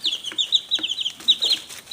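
Several Rhode Island Red and Plymouth Rock hens cluck in a backyard coop, a steady run of close, overlapping short clucks and chatter with no talk.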